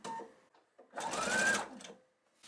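A sewing machine runs a short burst of stitches right off the corner of a quilt top, one steady whirring run of about half a second, close and clear, between quiet moments.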